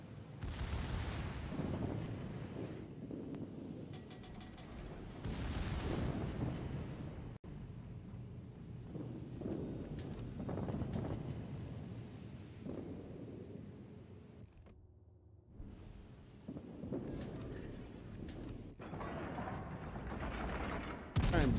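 Heavy gunfire and booming shots in a PS4 video game, coming in loud bursts and rumbling blasts spread over the stretch, with a brief quieter lull partway through.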